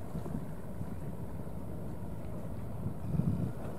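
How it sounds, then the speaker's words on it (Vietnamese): Diving boat leaving port at Phu Quy island with a canoe in tow, a low steady engine rumble with wind noise, a slight swell near the end and no talk. "Tiếp tục là một chiếc ghe lặn nữa. Cũng đang có xuất bến này."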